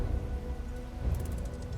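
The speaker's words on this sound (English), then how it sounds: "As you're walking through the valley, it starts to rain" Steady rainfall in a Roman-era strategy game as a party crosses a valley, a soft continuous hiss with low rumbling beneath and a brief cluster of faint drip-like ticks near the end.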